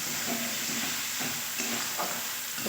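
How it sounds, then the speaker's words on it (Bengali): Masala frying in oil with a little water, under a constant loud sizzle and hiss, while a spatula stirs it in a few soft scraping strokes. "অল্প জল দিয়ে দিয়ে কষাতে থাকবো যতক্ষণ না তেল ছাড়ে"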